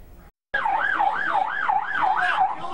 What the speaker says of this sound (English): It's a nightmare that started with sirens and a booming voice.